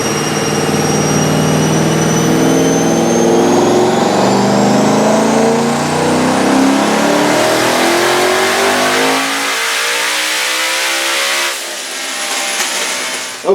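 Turbocharged street sleeper engine running on a dyno with added boost, revving hard in a long, loud sustained pull with a rising whine, then easing off near the end.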